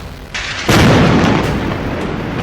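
A bunker buster bomb dropped from an aircraft detonates in a single loud, deep boom that swells up after a softer rumble and then rolls on in a sustained roar without fading, with no voices.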